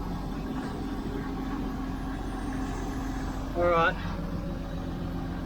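A truck engine idles steadily while air pressure builds before it is put into gear, a low constant rumble with a short hiss near the end; someone speaks briefly over it.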